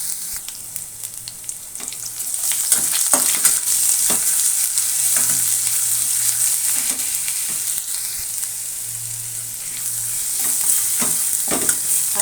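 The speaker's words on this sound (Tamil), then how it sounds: "இது நல்லா வதக்கிக்கலாம். நல்லா மெரூன் கலரில் வர மாதிரி வதக்கலாம்." Ginger-garlic paste sautés with cardamom, cinnamon and cloves in hot oil: a bright, continuous sizzle nearby, broken by repeated scraping clicks of a spoon stirring the pan.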